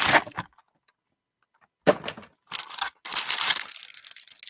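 Paper packaging from a newly opened toy haul crinkles in two close, dry bursts of rustling separated by a short silent gap, with a brief crumple at the start; no one talks.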